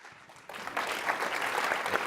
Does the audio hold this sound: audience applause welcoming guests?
yes